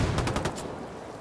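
Burst of rapid gunfire in a shooting video game, a quick string of sharp shots lasting well under a second before fading into ambient noise.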